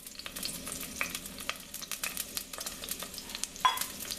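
Half a cup of chopped onions frying in butter in a pan for butternut soup, giving a steady low sizzle with scattered soft crackles and light stirring scrapes throughout.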